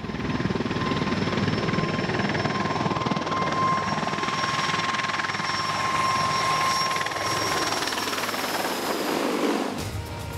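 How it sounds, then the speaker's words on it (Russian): A Mil Mi-26, the world's largest heavy-lift helicopter, flies with a loud, steady roar of rotor and turbine, continuous and close, cutting off sharply at the end. "Сегодня самый большой грузоподъемный вертолет в мире – Ми-26."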